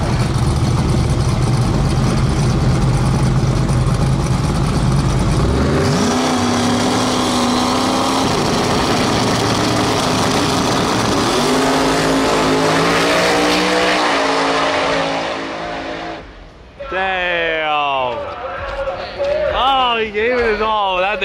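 A drag race car accelerates hard down the strip, its loud engine note climbing steadily in pitch as it pulls away, with crowd noise and excited voices talking over it toward the end.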